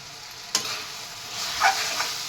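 Egg curry with coriander leaves is stirred in a pan, with a soft steady sizzle, one sharp clink of the spoon early on, then gentle scraping, close and with no voices.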